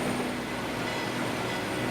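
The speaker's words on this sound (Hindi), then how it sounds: "ये पेरू रेल की ट्रेन है। इंजन आवाज़ करने लगी है।" A PeruRail train engine runs idling before departure, a dense continuous rumbling roar with a steady hum, loud and close and unchanging throughout, with no talk.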